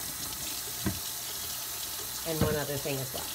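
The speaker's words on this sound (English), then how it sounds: "So we're gonna wash hands." A tap runs steadily at a salon sink as hands are washed. The water is a soft, continuous rush under a man's speech.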